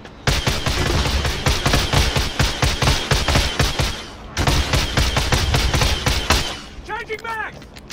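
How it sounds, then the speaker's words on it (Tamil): Rapid, dense automatic gunfire and explosive bursts in a Warzone Verdansk Plunder match, loud and continuous with a short gap, ending in fainter electronic chirps. "ஸ்னைப்பர் டவர்ல இருந்து வருது"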